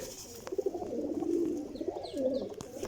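Pigeons of a champion Pipla breed coo softly nearby in a continuous low, throaty murmur lasting a few seconds, with faint background noise and no talking.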